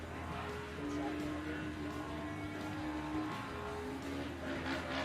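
A Can-Am Outlaw Series race car revs its engine on the throttle through a final corner, a steady distant roar rising and falling over track ambience.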